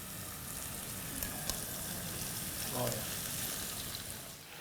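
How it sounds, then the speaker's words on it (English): Seasoned food sizzles in an oiled frying pan with a soft, steady hiss that holds throughout at low volume, with a faint clink partway through. "There's that sizzle."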